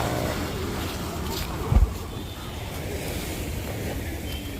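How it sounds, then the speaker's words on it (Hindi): Arabian Sea waves wash along the Mumbai shore in a steady outdoor rumble with wind buffeting the microphone and one brief louder surge, heard up close without clear talk. "तो यही है मुंबई महाराष्ट्र में स्थित ये समुद्र, हिंद महासागर, जो अरब सागर से भी जुड़ा है"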